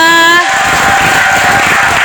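A church audience applauds a pastor at a 2019 Bible quiz contest, with dense, steady clapping and some crowd noise after a brief voice at the start.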